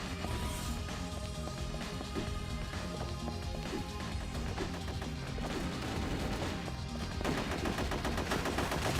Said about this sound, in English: I've given you Gatling guns. Use them.